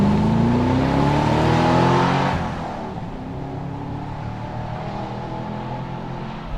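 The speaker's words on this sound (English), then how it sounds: "what is it about the red-blooded American male that we like V8 noise so much?" A Chevrolet Camaro SS V8 revs hard with rising engine tones, loud and close for about two seconds, then drops to a lower steady rumble as it eases off.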